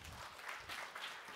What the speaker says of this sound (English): A round of applause for Acoustic Technologies.